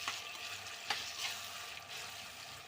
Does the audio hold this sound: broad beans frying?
yes